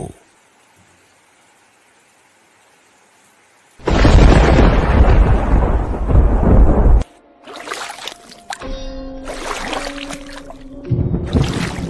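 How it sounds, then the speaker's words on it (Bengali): After a long near-silence, a loud, close crash of thunder rolls for several seconds, followed by more bursts of rumbling storm noise. "আকাশে যে কালো মেঘ ঢেকে গেছে, প্রচন্ড বিদ্যুৎ চমকাচ্ছে"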